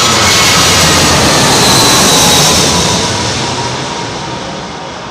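Loud, roaring passenger jet passing low overhead on arrival to runway 27L at London Heathrow Airport at sunset, the broadband rumble peaking early and then slowly fading as it moves away.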